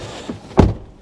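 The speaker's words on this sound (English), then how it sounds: "shut the door." The door of a Hyundai Kona shuts with a single close, heavy thunk, preceded by a faint soft rustle.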